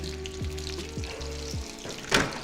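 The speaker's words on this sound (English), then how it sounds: "I love to hear that frying noise" Food sizzles in hot oil on a home stove, a close steady crackle with a few short tonal scrapes, ending in a brief louder hiss burst; no speech.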